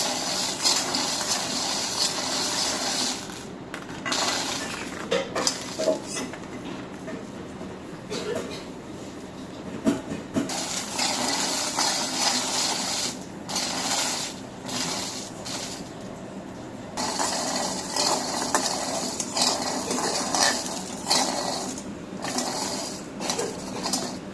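Jackfruit seeds roast in a pan with a continuous sizzling hiss broken by clinks and scrapes of a utensil against the metal, heard close up with occasional quieter gaps.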